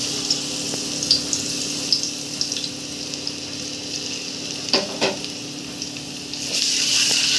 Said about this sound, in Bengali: তেলটা গরম হলে দিয়ে দিব রসুন কুচি।